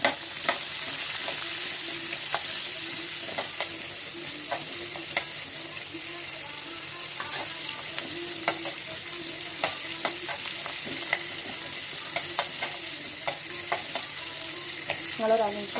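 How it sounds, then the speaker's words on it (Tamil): Chopped onion frying in oil for a cauliflower curry, with garlic and ginger stirred in, gives a steady close sizzle broken by regular scraping clicks of a spoon against the pan, with no talking. "இப்போ நம்ம வந்து ஆயிலில் வெங்காயத்தை போட்டுக்கலாம். வெங்காயம் நல்லா வதங்கட்டும்."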